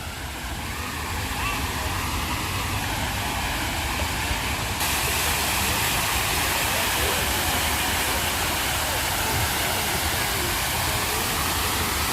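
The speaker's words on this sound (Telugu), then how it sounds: "బాగుందే వాటర్ ఫాల్స్ కిందనే" A waterfall in Lumbini Park beside Hussain Sagar lake gives a loud, steady broadband rush that holds without a break for the whole stretch.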